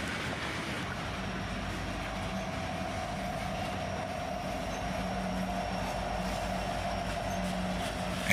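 A freight train led by a Norfolk Southern locomotive rolls past, producing a steady, loud, continuous rumble of wheels and cars that holds at an even level throughout.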